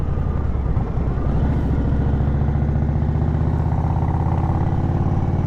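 Motorcycle riding on gravel, dirt and debris while braking, a loud steady engine drone with a gritty rumble close by, no talking.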